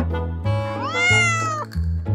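A domestic cat on a farmyard gives one loud, close, drawn-out meow that rises and falls, heard alone over a soft musical backing.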